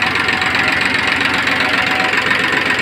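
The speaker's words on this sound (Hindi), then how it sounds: "ट्रैक्टर की आवाज़ सुनें," A used tractor in good condition idles with a steady, throbbing diesel knock. The engine sounds close and fairly loud, with an even rhythmic chug and no voices over it.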